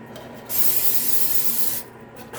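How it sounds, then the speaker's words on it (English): A single burst of cooking spray onto a baking sheet hisses loudly for about a second, close up, with quiet room noise before and after. "We're supposed to lightly grease the cooking sheet, so I'm gonna get some"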